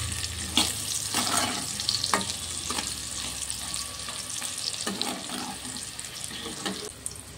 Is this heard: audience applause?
no